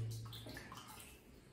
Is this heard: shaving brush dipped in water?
yes